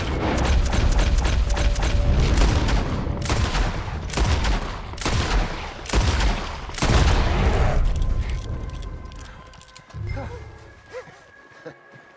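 Heavy gunfire in Red Dead Redemption 2, with loud booming shots and volleys in quick succession that thin out toward the end, with shouting voices mixed in.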